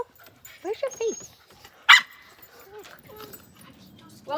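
A young puppy at a puppy day-school session gives a few short yips and whimpers, scattered and close, with people talking around it.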